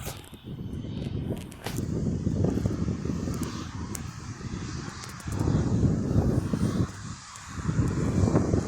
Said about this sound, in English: And there's the Emirates A380 tucked in the background. Straightforward taxiing.